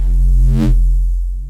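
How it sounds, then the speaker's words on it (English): A neuro bass synth patch built in Ableton Operator with stock effects plays one sustained, dense note, loud throughout, with a harmonic-rich low drone and a brief growling swell in the middle before it tapers off. "we're going to make some Neurobasses using only operator and built-in effects"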